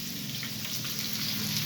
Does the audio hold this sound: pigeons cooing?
no